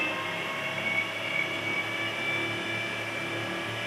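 Engine held at high RPM under pressure, a steady loud mechanical roar with a constant whine and no pauses.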